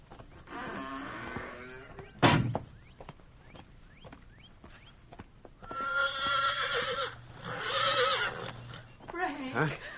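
A horse whinnies in a long, wavering call, then a sharp knock and a quick run of clip-clopping hooves, followed by two more loud neighs near the end.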